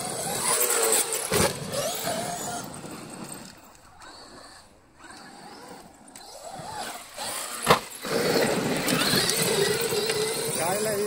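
A large Traxxas XRT 8S RC monster truck of about 10 kg is driven at full throttle forward, then in reverse, its motor whining and surging loudly with a sharp burst near the end while people talk over it.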